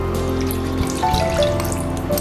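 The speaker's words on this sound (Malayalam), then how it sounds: "1/2 കപ്പ് പാൽ നമ്മൾ പാത്രത്തിലേക്ക് മാറ്റിക്കും. ഇത് ഒഴിക്കാം." Milk mixed with cornflour pours steadily into a cooking vessel in a kitchen, a continuous liquid splash close by with no talking.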